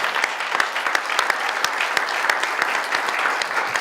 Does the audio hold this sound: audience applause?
yes